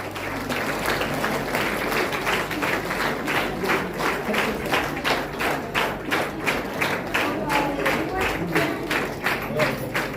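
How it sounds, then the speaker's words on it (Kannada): Audience applause at a stage event welcoming guests to an interaction program with women employees, steady clapping sustained throughout with soft thumps mixed in, filling the whole stretch. "ಸ್ನೇಹಿತರೆ ಚಪ್ಪಾಳೆ"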